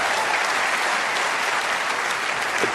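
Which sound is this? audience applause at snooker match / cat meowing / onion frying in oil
audience applause at snooker match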